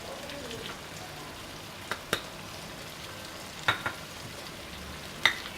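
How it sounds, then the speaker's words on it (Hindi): Goat brain (bheja) frying with spices in a hot pan, a soft steady sizzle with a few sharp clicks and pops of stirring scattered across the clip. "अब इसमें ये मैं मगज़ शामिल करूँगी फ्राई पे"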